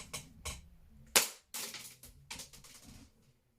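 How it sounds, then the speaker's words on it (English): A gas-powered BB pistol fires indoors with one sharp crack, followed by a scatter of small clicks and knocks from handling nearby, all fairly faint with no talking. "It fired, and if you heard that well enough, it's somewhere behind my cupboard now."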